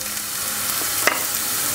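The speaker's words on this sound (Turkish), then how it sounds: "Soğanı güzelce kavuruyorum" Onions sizzle steadily in a hot pan, a constant crackling hiss with a couple of sharper pops, no voices.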